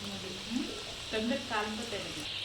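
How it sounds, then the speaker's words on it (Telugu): Sweet kajjikayalu dumplings fry in hot oil in a kadai, a soft steady sizzle with bubbling bursts, faint voice murmurs mixed in. "నేనైతే ఇట్లా నా కడాయిలో ఎంత సరిపడుతుందో ఆయిల్కి అన్ని కజ్జికాయలు అయితే వేసుకొని నీట్గా ఫ్రై చేసుకుంటున్నాను."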